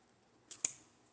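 Two quick close snips of scissors cutting through ribbon while making a Christmas bow, faint and brief in an otherwise quiet room.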